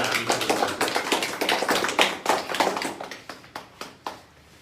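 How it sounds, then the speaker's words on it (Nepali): An audience at a political party gathering in Nepal clapping, a burst of dense applause that thins into scattered separate claps and fades out within a few seconds. "उहाँहरू सबैलाई एकपटक ताली बजाएर उहाँहरूलाई पनि प्रेरणा दिने"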